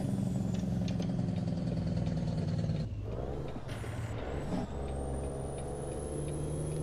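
Heavy truck engine with a Jake brake on its low setting in American Truck Simulator, a steady low rumble that dips and shifts pitch midway before settling into a drone, with a faint whistle-like tone above.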